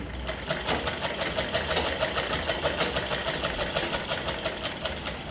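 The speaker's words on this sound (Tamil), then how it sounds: "ஒரு கை இணைச்சாச்சு அடுத்து இன்னொரு கை ஓட்டு தையல் போட்டதுனால குயிக்காக முடிக்கிறோம்" Sewing machine stitching a sleeve onto a maxi bodice, running close by at an even, rapid pace with a steady chattering pulse of needle strokes and motor whir throughout, with no talking.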